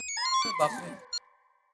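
A mobile phone rings in a home, giving a short melodic ringtone of clear tonal notes that lasts under two seconds, with no talking over it.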